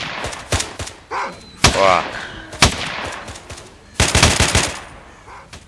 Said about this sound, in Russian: Неудобно так стрелять.